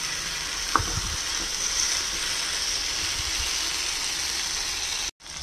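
Chicken pieces sautéing in a pan for chicken lababdar give off a continuous, even sizzle. A brief clink of a utensil comes near the start, and the sound cuts off abruptly just before the end.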